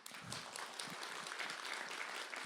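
An audience applauding at a Cantonese opera showcase of young performers held by the Chinese Artists Association of Hong Kong, a soft, steady patter of many hands clapping that sounds distant and continues without a break.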